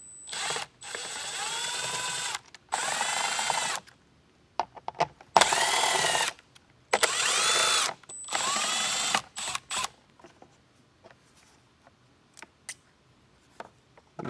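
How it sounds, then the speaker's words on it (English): A power tool runs in several bursts, whirring while it backs out a 5mm Allen bolt from a speaker grill on a 2024 Jeep Wrangler JL, with short pauses and small clicks between the runs. "This is a 5mm Allen, so let's go ahead and get that out."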